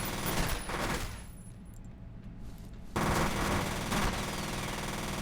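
Rapid automatic gunfire in the first-person shooter video game F.E.A.R. rattles loudly in two bursts separated by a quieter gap of reloading, close and dense with no talk.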